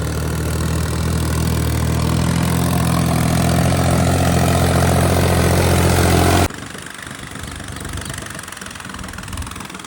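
A tractor engine idles loudly with a steady low knocking throb, then cuts to a quieter, rougher engine sound for the last few seconds.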